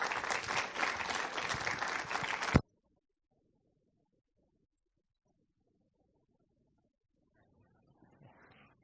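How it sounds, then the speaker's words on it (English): Loud, dense applause from a crowd at a graduation ceremony for a couple of seconds, cutting off abruptly into near silence, with faint rustling returning at the end. "let's give him a warm round of applause"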